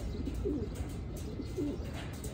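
Pigeons coo in a loft holding young and old birds together, soft repeated throaty coos close by over a low background murmur.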